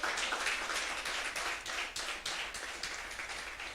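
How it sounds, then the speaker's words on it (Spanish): A church congregation claps together during a service, a soft but steady patter of many hands sounding somewhat distant throughout. "¿Por qué no le das un fuerte aplauso al Señor?"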